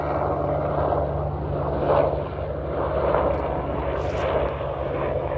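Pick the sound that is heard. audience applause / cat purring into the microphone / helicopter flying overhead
helicopter flying overhead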